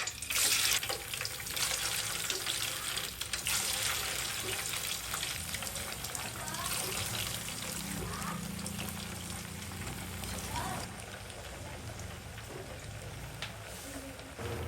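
Tofu pieces frying in hot oil for sisig, a dense continuous sizzle and crackle with occasional stirring scrapes, close and steady throughout, no voices.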